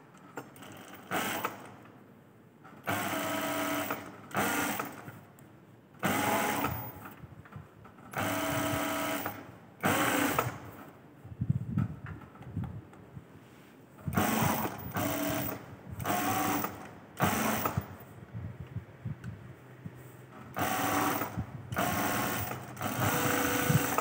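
A sewing machine stitches along fabric edges on a torso foundation garment, running in repeated bursts of rapid mechanical chatter separated by short pauses, close and loud, with no talk.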